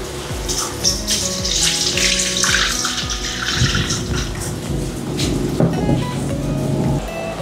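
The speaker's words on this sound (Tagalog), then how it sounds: "Sunod po ay paghaluin na po natin yung tubig ng coconut" Coconut water being stirred together with sugar to make coconut vinegar, a steady liquid sloshing and swirling with irregular clinks and taps throughout, close and fairly loud, with no talking.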